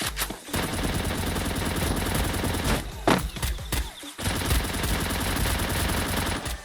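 A rapid-fire long shotgun in the Free Fire mobile game blasts in a loud, nearly continuous rattling stream of shots, with a couple of brief gaps between bursts, close and dense with no talking.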